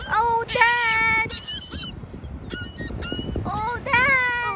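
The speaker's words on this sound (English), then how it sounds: "the birds flew away with my cookies" Beach birds that have snatched a cookie at a picnic squawk loudly and repeatedly in rising, honking calls, close by, over a busy outdoor background.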